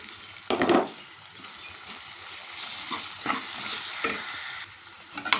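Mixed vegetables sizzle in a pan while ginger paste is stirred in for vegetable rice, a steady frying hiss broken by several scraping stirs of a spoon, close and fairly loud, with no talking.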